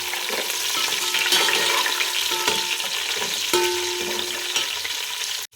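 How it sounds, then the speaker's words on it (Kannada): Ginger, garlic and green chillies fry in hot oil in a pan with a bright, steady sizzle up close, while a spatula scrapes and stirs through it. "ಇವಾಗ ಇದನ್ನು ಫ್ರೈ ಮಾಡ್ಕೊಳ್ಬೇಕು, ಶುಂಠಿ ಬೆಳ್ಳುಳ್ಳಿ ಚೆನ್ನಾಗಿ"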